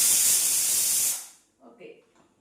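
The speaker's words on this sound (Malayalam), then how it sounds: "ഇപ്പം 3 വിസിലാവണം, എന്നാലേ സാമ്പാറിന് വരും." A 17-year-old pressure cooker cooking sambar lets out a loud, steady jet of hissing steam for about a second before it cuts off abruptly, followed by faint speech.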